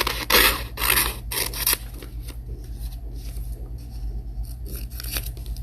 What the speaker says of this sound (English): Just make sure to be really careful with your scissors.